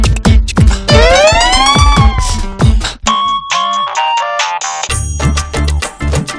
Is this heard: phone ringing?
yes